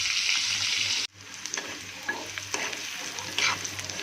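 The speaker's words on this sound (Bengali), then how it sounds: "হলুদ মরিচ লবণ দিয়ে মেখে আমি ভেজে নিব, তারপরে রান্না করব।" Pieces of pangas fish coated in turmeric, chili and salt fry in hot oil with a steady, loud sizzle; the hiss briefly cuts out, then resumes with crackling bursts and occasional stirring.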